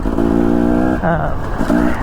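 A 1964 Chevrolet engine with a 4-speed manual transmission drones steadily close up, its pitch shifting between held tones as if through gear changes, with a voice talking over it.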